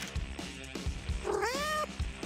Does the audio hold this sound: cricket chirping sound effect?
no